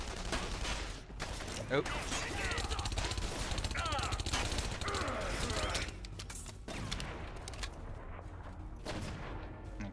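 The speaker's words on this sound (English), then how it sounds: "those shots are coming from downstairs" Gunfire from downstairs in The Saboteur: dense, rapid bursts of shots that are muffled and somewhat distant, running for several seconds before easing off, with a brief exclamation from a voice.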